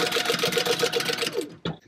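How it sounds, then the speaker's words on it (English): A sewing machine stitches a zipper gusset on a bucket bag at a 3-stitch length, a steady rapid clatter of needle strokes for over a second before stopping, followed by a short click. "Alright, let's go to the sewing machine. You're going to sew across here 1/4 inch."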